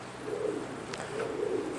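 Pigeons coo in low, soft, rolling calls, two murmured phrases over a light background hiss, close by, with no one talking.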